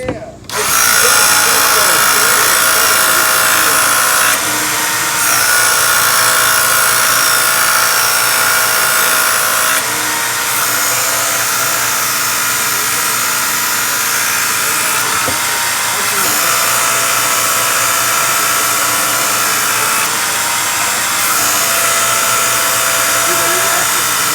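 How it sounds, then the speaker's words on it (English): A knife being sharpened to a 20 degree angle on a powered sharpener, a loud continuous high whirring grind that dips briefly every few seconds as the blade is repositioned, with voices under the noise. "This is sharpening to the proper angle for this type of knife, 20 degrees."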